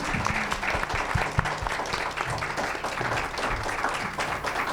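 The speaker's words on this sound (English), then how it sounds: "Can we get a round of applause for our candidates" Steady audience applause for candidates at a district candidate forum, a dense continuous patter of many hands with a few voices mixed in.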